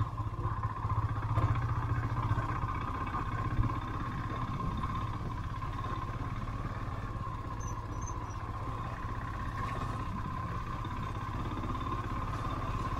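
A motorbike drones steadily along a rough road, its engine a constant mid-pitched hum with occasional small knocks from the uneven surface, heard close with no talking.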